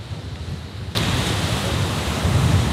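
Ocean waves wash onto a Hawaii beach as a loud, continuous roar of surf that jumps up partway through, mixed with gusty wind buffeting the microphone. Nobody speaks.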